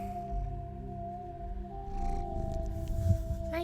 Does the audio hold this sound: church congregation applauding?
no